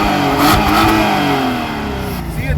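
A 2007 Volkswagen Passat VR6 engine revs steadily at close range, a throaty mid-pitched roar that swells early and then settles into a smooth, sustained growl.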